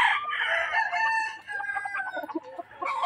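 A gamefowl broodcock crows loudly and close, one long drawn-out call that fades into softer clucking and clucks from nearby fowl. Nobody speaks.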